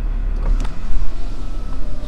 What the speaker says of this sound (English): as you can see, the windows went all the way up